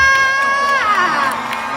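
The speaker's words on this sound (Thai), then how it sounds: "ขอเสียงปรบมือให้นักแสดงทั้งหกท่านด้วยค่ะ" A live stage audience cheers and shouts for six television drama actors, loud crowd noise with high excited voices rising and falling over scattered clapping.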